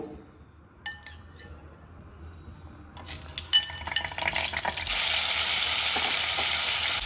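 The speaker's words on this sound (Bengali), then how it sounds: "এই সময় আমি এবার এই সেদ্ধ করা আলুগুলো ভেজে নেব।" Potatoes, boiled first, crackle and sizzle as they start frying in hot mustard oil, with a few clinks of a utensil at first, then a steady loud hiss filling the second half.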